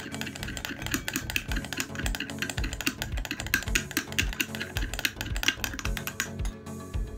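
Gram flour face pack paste is stirred in a bowl, giving a quick run of soft, irregular clicks and taps that are close, faint and unbroken.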